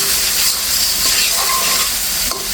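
Eggplant and fish masala stir-fried in oil in a pan, a loud, continuous close sizzling hiss that runs steadily throughout with faint scraping underneath.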